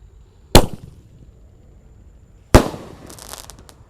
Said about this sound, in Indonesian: Sudah menyala pelontar Basoka roman candle 1 tor.